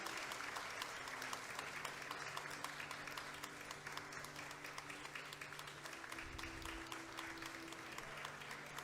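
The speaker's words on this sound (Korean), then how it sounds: "박수 부탁드리겠습니다." A church congregation applauds steadily at a celebration service as gifts are presented to four honorees, dense sustained clapping throughout with faint tonal background hum.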